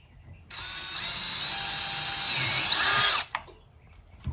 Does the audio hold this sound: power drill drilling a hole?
yes